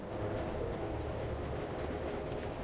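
A moving train in the video game Assassin's Creed Chronicles Russia gives a steady, loud rumble with continuous rolling rail noise and no speech over it.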